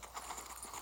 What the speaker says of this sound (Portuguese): Aqui tem um cavalo, que eu não sei pra quê.